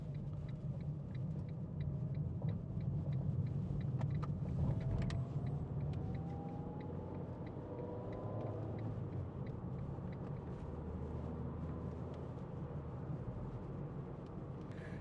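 A 2011 Ford Ka 1.2 engine and road rumble drone steadily from inside the cabin on a dual carriageway, a low continuous hum with faint ticking, fairly quiet throughout.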